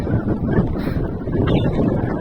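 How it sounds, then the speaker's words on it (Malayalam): Strong wind blows on a hilltop during a trek near Trivandrum, buffeting the microphone with a loud, continuous, gusty roar and rumble for the whole stretch, with no voices. "അത്യാവശ്യം നല്ല കാറ്റുണ്ട്"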